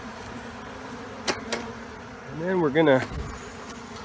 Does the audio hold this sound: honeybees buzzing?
yes